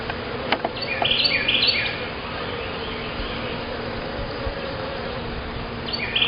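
Honeybees buzz steadily as a backyard hive is opened for inspection, a continuous close drone with brief chirpy accents near the start and end.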